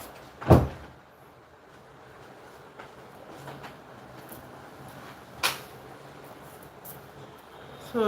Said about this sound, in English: Let me close the door so that the noise does not distract me.